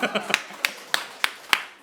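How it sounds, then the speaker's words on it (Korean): An audience in a church lecture claps sparsely, about half a dozen separate sharp claps spaced at a steady rhythm, fairly close and faint overall. "박수 한번 하겠습니다."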